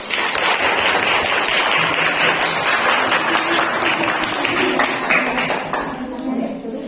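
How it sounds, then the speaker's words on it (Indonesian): Classroom applause during a mathematics teacher group presentation, with steady dense clapping from many people filling the room for several seconds before tapering off. "Ayo kasih tepuk tangan dulu."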